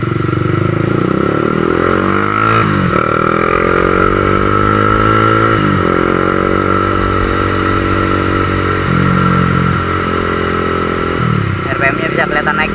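A Honda CBR 150 motorcycle engine revving up and down repeatedly, loud and close, with pitch rising and falling over several throttle blips.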